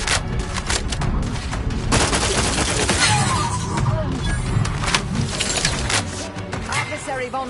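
Dense gunfire from The Outer Worlds 2 on PS5 Pro, with rapid automatic bursts and booming shots in a loud, continuous fusillade, layered with game sound effects and a voice speaking over the combat.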